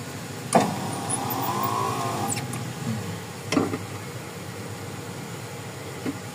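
A Honda FD (K30 engine) power window motor runs in a short, weak whir, framed by sharp clicks at start and end, with a quiet hum and a later click following.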